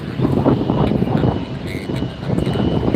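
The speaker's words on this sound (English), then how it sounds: "That's an E-Jet." Embraer E-Jet airliner at LAX airport, a steady loud roar of jet engines with wind buffeting the microphone, heard close and continuous.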